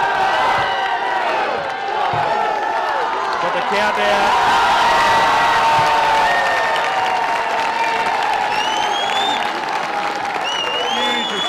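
Indian spectators roar and applaud at an international field hockey match against Australia, a loud, dense wall of cheering and whoops that holds steady throughout, with a commentator's voice briefly audible over the din.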